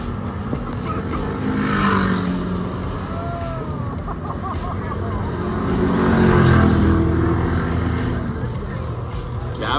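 Hobby stock race cars on a speedway during a fall classic event, engines droning steadily and swelling as they pass near, with faint tire squeal and a commentator talking over the track noise.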